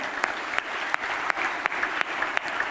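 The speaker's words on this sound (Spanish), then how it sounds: "Le damos un aplauso por ellos" Congregation applauding at a church service, a steady dense wash of clapping with sharp periodic accents every third of a second or so, sustained throughout at moderate loudness with no talking.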